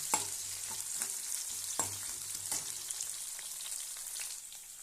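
Chopped tomato sautéing in a pan for egg idiyappam biryani, a steady sizzle with scraping stir strokes of a spoon recurring every second or so, close and moderately loud, with no talking.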